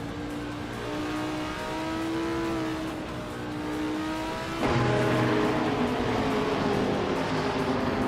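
Race cars in a racing video game drone steadily with engine tones that rise and shift, then a second louder engine cuts in abruptly as cars overtake, continuous and fairly close with no talk.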